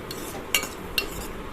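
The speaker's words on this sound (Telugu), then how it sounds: "గోల్డ్ కలర్కి వచ్చేదాకా కాస్త వేయించండి" Lentils fry in a pan for upma, stirred with a utensil that clinks twice against the metal over a soft steady sizzle, close and quiet with no voices.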